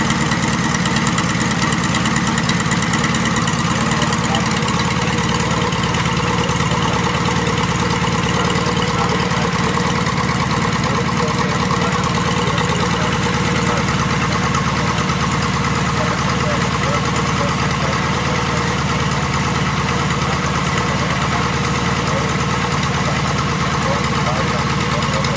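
A motorcycle engine, started off a car battery because its own battery is dead, idles steadily and loudly throughout, a continuous low rumble with a faint voice somewhere underneath, in a yard in Pula.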